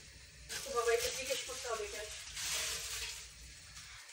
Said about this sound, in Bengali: এখানে হচ্ছে আমরা উস্তে ভাজি করব তেল দিয়ে দিই